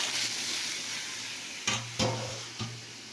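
Spices for dal tempering sizzle in hot oil with a steady frying hiss, broken near the end by a few sharp bursts as more goes into the pan.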